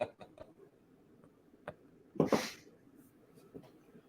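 A single sneeze bursts out near the middle, sharp and fairly close, among soft room noise and breaths in a relaxed group setting.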